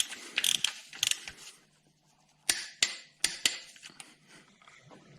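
A torque wrench tightens a new sump plug on a Vauxhall Agila B 1.2 during an engine service, giving close, crisp ratcheting clicks in short bursts and then several sharp separate clacks, with no talking.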